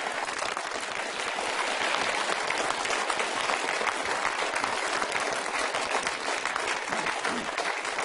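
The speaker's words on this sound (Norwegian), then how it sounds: "hvis vi fortsetter å klappe litt, så klapper vi for en 50-åring" A theatre audience applauds at Yngvar Numme's 50th birthday celebration, with steady, dense clapping from a large crowd that holds even and full for the whole stretch.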